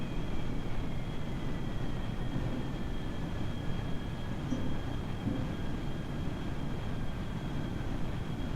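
A jet engine on full afterburner in Kerbal Space Program roars as a constant broadband rush with a faint high whine, steady and loud from start to finish without pause.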